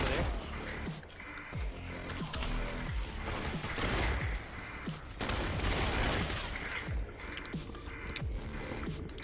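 Rapid bursts of gunfire from the VR shooter Population One, repeated volleys and single shots cracking loudly over a dense, constant backdrop of game noise for the whole stretch.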